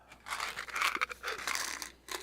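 A wrapper around a stick of mint gum crinkles and tears close by, quiet irregular crackling and rustling in short bursts.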